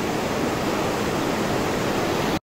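Massive waterfall in Tongling Canyon, Guangxi, China, pouring straight off a rock wall: a loud, steady, dense roar of falling water filling the whole span, close and unbroken until it cuts off abruptly at the end.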